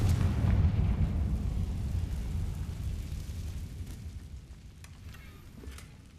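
A Confringo spell blast in Hogwarts Legacy: a loud, deep rumbling explosion at the start that slowly rolls off and fades over several seconds, with faint crackles above.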